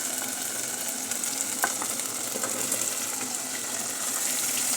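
Butter beans and potatoes are stirred in a pot, giving a steady sizzling hiss with soft scraping and a few faint knocks. The sound stays close and continuous, with no talking.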